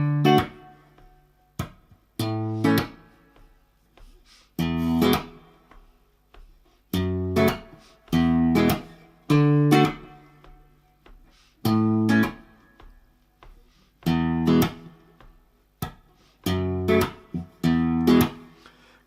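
Acoustic-style guitar plays the intro of a song as a sequence of clear, separately struck chords with pauses between them, close and alone.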